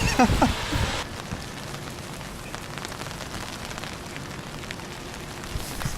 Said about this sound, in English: It's actually been raining so hard